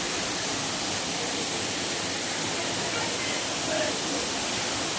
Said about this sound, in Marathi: कुठून पण पाहू शकता तुम्ही धबधबा कसा वाटतं